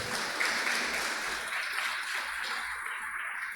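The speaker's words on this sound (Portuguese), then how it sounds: "Vamos dar um forte aplauso para Jesus?" A church congregation applauds during a sermon, a steady, soft, distant wash of clapping that fills the room without pause.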